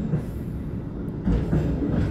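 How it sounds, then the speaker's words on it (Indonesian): Gajayana passenger train rolling past near the Kroya junction, a loud steady rumble of wheels and carriages with rhythmic clatter swelling partway through, no voices. "Yang lewat itu kereta api Gajayana."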